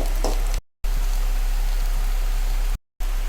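Masala frying in a pan for egg sukka, a soft steady sizzle and crackle close by, with no talking, broken by two brief silent gaps.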